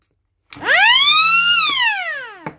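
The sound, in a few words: rotary air siren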